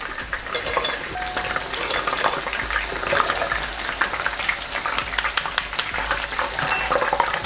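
Chicken pieces for rajogi deep-frying in hot oil, a steady close crackling sizzle with bright pops and spits running throughout, no talking.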